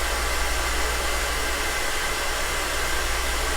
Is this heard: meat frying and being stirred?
no